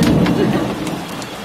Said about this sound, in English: Robin, the rain is coming this way and we're running that way.